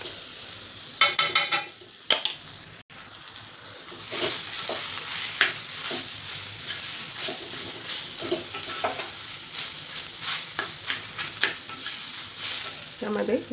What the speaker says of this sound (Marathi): आणि आपण ही वाटून घेतलेली डाळ घालायची.